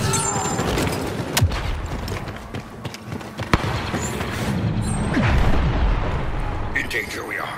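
A grenade blast in the Star Wars Battlefront II battlefield makes a heavy, booming rumble amid scattered shots and mechanical clatter. Combat voices talk over the noise.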